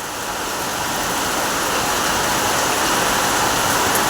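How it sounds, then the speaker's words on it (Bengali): Heavy rain pouring down outside, a loud, unbroken hiss of falling water that stays steady and close from start to finish with no voices. "কিন্তু দারুণ বৃষ্টি পড়ছে"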